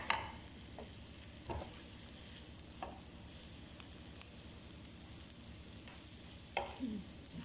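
Food being stirred and mixed in a pot with a spoon, a steady soft scraping and sizzling texture broken by several sharper knocks of the spoon against the pot, close by with no talking.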